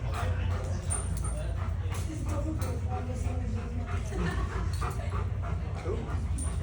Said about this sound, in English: What a great dog.